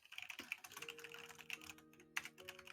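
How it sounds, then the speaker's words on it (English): Quick, light keyboard typing in the background, with irregular soft clicks spread over a few seconds and faint steady tones beneath, no talk. "hear in the background like someone's typing this down"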